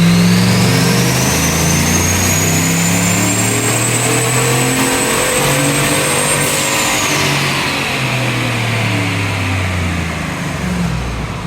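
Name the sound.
turbocharged Chevrolet Suburban engine revving during a dyno pull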